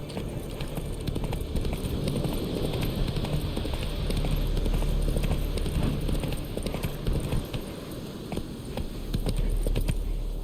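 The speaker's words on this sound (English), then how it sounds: "Whoa there, Roach." Horse hooves clip-clop in The Witcher 3 video game, a steady rhythmic trot of moderately soft, close hoofbeats over a constant background ambience.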